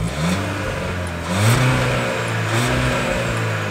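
The 1.5-litre inline four-cylinder turbo petrol engine of a 2022 VW Taigo Style 1.5 TSI DSG revs up and down a few times, rising and falling in pitch, close and fairly loud with no speech.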